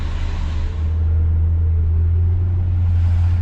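A 1959 Chevy Bel Air engine idles in neutral while warming up, a steady, loud low rumble that holds even and unbroken throughout with no talk over it.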